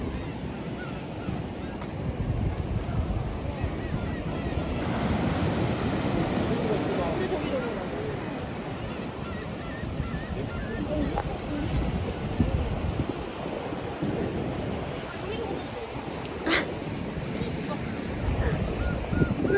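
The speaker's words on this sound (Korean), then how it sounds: "파도 이렇게 치는 거 처음 볼걸?" Winter sea waves break on the coast at Yangyang, Gangwon Province, South Korea, in a continuous rumbling wash, with people's voices faint underneath.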